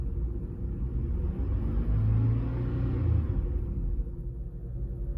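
A 2007 Buick Lucerne engine rises from idle into a steady rev, a continuous low rumble that swells in the middle and settles back, close and alone with no talk.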